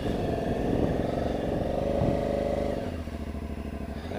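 Aprilia Shiver 750 motorcycle ridden in sport mode, its engine a close, continuous throbbing rumble with a brief rise in revs, then settling to a lower, pulsing drone.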